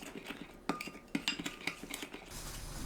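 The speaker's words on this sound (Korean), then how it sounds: "카레가루 2큰술, 물 2큰술 섞어줍니다" A metal spoon stirs curry powder and water in a small bowl, making a series of clinks and scrapes in an irregular rhythm, close and moderately loud, ending in a brief rustle.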